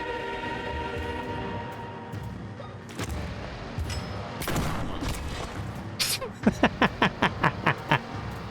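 A shotgun fires in the video game Tormented Souls, with a few heavy blasts amid rumbling noise, then a quick rhythmic series of sharp, evenly spaced shots near the end.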